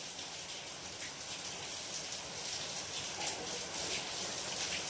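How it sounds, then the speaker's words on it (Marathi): Heavy rain pours down in a steady, dense hiss that holds at an even loudness throughout, with no voices. "पाऊस तर लय चाललाय"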